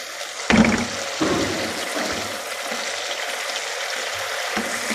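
Chicken curry masala frying in oil in a kadhai, a steady close sizzle with a couple of sharper stirring scrapes near the start, continuous and even throughout.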